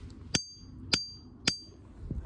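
Three evenly spaced hammer blows on ringing rock at Ringing Rocks Park, each a bright, bell-like clink that rings briefly, heard up close with soft outdoor background.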